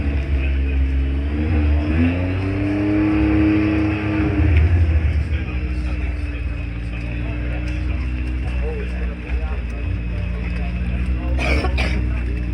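A Pagani Huayra R engine revs at the Goodwood Festival of Speed, a loud rising and falling drone passing nearby over steady crowd noise, with people talking over it.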